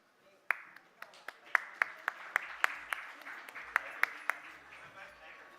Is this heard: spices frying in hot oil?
no